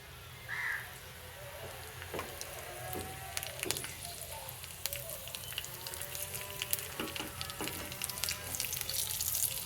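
Dried red chilli, fenugreek, nigella and cumin seeds sizzling in hot oil, a steady soft crackle and hiss that grows slightly denser, with faint clinks and a low background hum.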